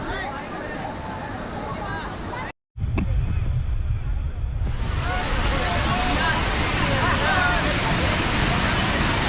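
Devkund waterfall rushes in a steady, loud, dense roar of falling water, broken only by a brief cut to silence partway through.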